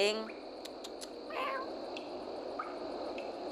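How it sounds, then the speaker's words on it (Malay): Cat meowing from the Hollow Knight: Silksong game, a short bright mew mid-clip with a fainter one later, over steady background hiss and faint chiming sounds. "Kucing."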